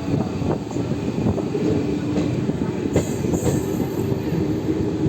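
An intercity train leaves Nabadwip Dham station, heard from on board as a continuous loud rumble of wheels on track with irregular clicks and occasional thin squeals from the rails.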